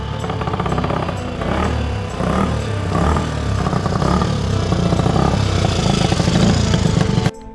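A rare Honda motorcycle with a fuel leak runs close by, its engine thumping in a loud, rough, pulsing idle with rhythmic surges and a mechanical clatter, cutting off abruptly at the end.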